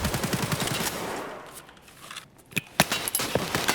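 Gunfire in the tactical shooter Escape from Tarkov: a rapid burst of automatic shots at the start, then a lull and several sharp, scattered single reports toward the end, heard at moderate distance within a busy game mix.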